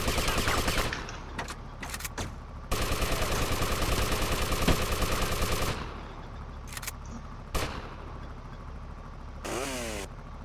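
Automatic gunfire rattles in GTA Vice City, loud rapid bursts that stop and start, with one long sustained burst in the middle and shorter volleys after it.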